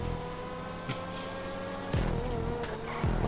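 A race car in GTA 5 drones at a steady engine pitch, with a couple of sharp upward revs as gears shift, moderately quiet and with no talking.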